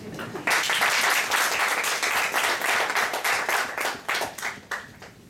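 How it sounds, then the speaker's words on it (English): Loud, dense applause from a Toastmasters meeting audience swells suddenly and keeps going steadily for several seconds before starting to thin out, with a voice faintly underneath. "Huge round of applause."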